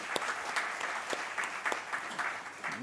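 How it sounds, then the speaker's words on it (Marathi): A church congregation claps to welcome a newly married couple, with steady, dense applause from many hands filling the space throughout, close and fairly loud. "आपण टाळ्या वाजवून त्यांचं स्वागत करूया"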